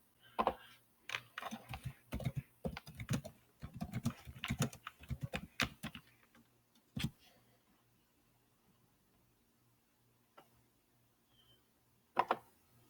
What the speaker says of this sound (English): Let me just type it in regular, man.